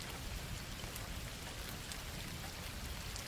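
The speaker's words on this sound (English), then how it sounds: "the sound of the water hitting the pavement" Rain falls on city pavement as a dense, even hiss of drops, steady and close throughout, with no voices.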